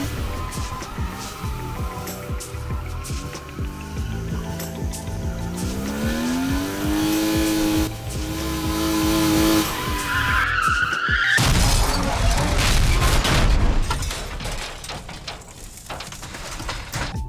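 A car in a VRChat drift world video game slides and revs with tire squeal and engine whine, then slams into something with a loud crash and shattering burst near the end, all without talk.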